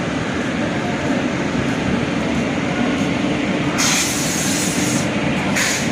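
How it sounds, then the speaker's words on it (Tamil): A Karaikal passenger train rolls steadily past nearby as it arrives at a station, a continuous low rumble of wheels on rails with a brief brighter hiss of squealing toward the end. "அது இன்னொரு ட்ரெயின் காரைக்கால் வண்டி வந்துட்டு இருக்கு."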